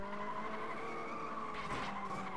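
A car drifts and skids in the racing video game FlatOut 2, a continuous tire squeal over a humming engine, steady and close.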